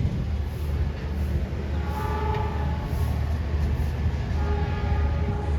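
A passenger train, the Argo Wilis, pulls into track 3 of a station with a steady, loud rumble of rolling cars, heard close and continuous without speech.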